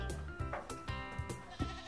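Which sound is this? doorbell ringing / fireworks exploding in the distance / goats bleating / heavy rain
goats bleating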